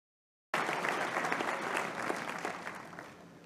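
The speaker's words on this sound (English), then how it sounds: "Bill Gates is applauding." Applause from a Harvard audience greeting Bill Gates, starting abruptly after a brief silence and holding as a dense, steady wash of many hands before slowly easing off.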